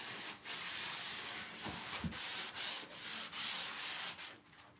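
Doors being sanded in prep for sealant and spray painting, a steady broadband rubbing hiss with rhythmic strokes and a couple of brief knocks, continuous and fairly close.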